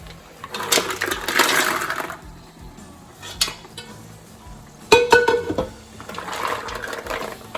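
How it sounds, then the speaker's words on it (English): Clams going into a pot of reduced wine broth give clattering, clinking shell-on-metal knocks in a few loose bursts, with a sharp rattle partway through and quieter gaps between. "So I'm going to put in the clams now."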